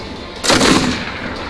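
Gunfire in the MechWarrior video game: a single heavy, booming burst of weapon fire that swells and then rumbles away over about a second, with no speech.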